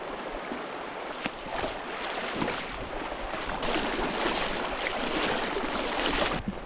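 Feet wading through a shallow mountain stream in New Zealand, with steady rushing water and broadband splashing throughout, wind buffeting close to the microphone, no talking.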